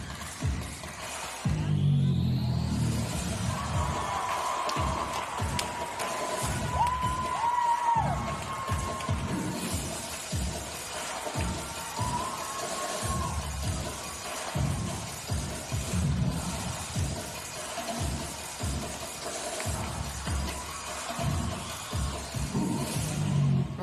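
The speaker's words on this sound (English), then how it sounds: "The crowd loving this performance." Spectators at an artistic swimming World Cup event in Montpellier cheer and shout steadily throughout a lively acrobatic routine, a loud, sustained crowd roar with rising whoops and bursts of excitement.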